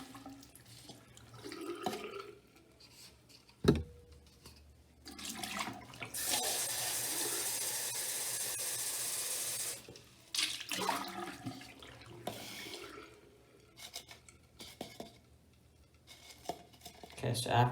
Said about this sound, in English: Rinse both the cups out.